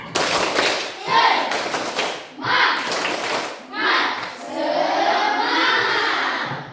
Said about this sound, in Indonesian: Coba kita tepuk semangat dulu ya. Oke, tepuk semangat.